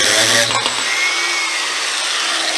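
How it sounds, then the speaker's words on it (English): An angle grinder cuts through a steel clutch rod for a 1940 Chevy Coupe, a loud continuous high-pitched whine with a brief dip near the start, running alone without talk. "now we need to cut this here rod for the clutch"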